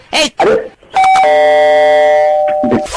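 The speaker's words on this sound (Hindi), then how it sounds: "मैं और एक बार घंटी बजा रहा हूँ" A doorbell chimes once with a sustained electronic ding-dong ringing out for about two seconds, with brief voices just before and after it.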